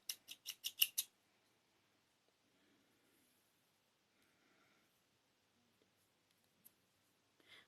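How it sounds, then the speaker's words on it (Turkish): Scissors snip yarn during crochet work, about six quick, close clicks at the start, followed by near silence with a few faint handling sounds. "Ve biraz dikiş payı bırakarak kesiyorum."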